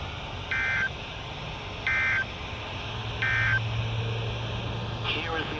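Three short, evenly spaced electronic alert beeps sound over a steady low hum during a weekly warning alarm system test on a Georgia weather radio broadcast, followed by a longer low tone.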